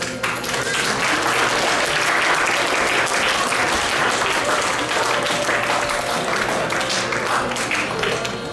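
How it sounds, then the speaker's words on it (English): An audience at a music concert's presentation ceremony applauds singers, a loud, sustained burst of dense clapping lasting several seconds. "Let's welcome them with a very big applause."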